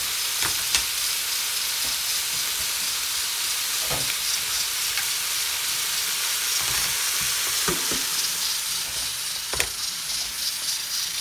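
Ingredients for a dark beef stock sauté in a hot pan with a steady, dense sizzle and hiss, punctuated by occasional spoon-and-pan clinks and stirring scrapes, close up and with no talk.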